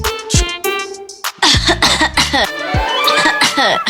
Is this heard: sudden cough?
yes